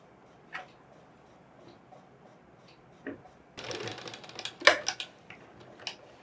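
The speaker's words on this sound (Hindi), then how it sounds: "अभी ये साइड को भी हमें ऐसा ही सिलाई मार देगा।" A sewing machine stitches fabric for a boy's Pathani kurta, with faint scattered ticks at first, then a short burst of rapid mechanical clatter and a few sharper clicks, quiet overall.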